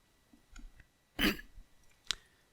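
One short, gravelly throat clearing close to the microphone, with a faint click afterward against a quiet background.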